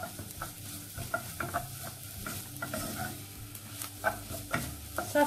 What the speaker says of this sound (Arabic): كيف ما كتشوفوا كنقلبوا فيه الطماطه شويه، غير هذاك الجزر يتنسم شويه ياخذ من النكهه ديال البصل